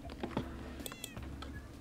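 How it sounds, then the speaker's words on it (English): Several Minecraft cats meowing in a village house, a string of short high meows at irregular intervals over a quiet low hum, with light clicking like keyboard typing underneath. "They got so many cats."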